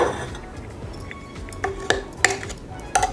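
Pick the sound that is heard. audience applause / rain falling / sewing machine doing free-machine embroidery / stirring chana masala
stirring chana masala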